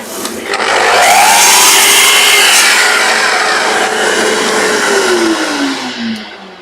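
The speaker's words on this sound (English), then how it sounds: "if I cut it in half, or thereabouts" A hand saw cuts a leftover piece of wood in half for a Japanese box. The rasping strokes run continuously, loud and close, then slow and fade near the end.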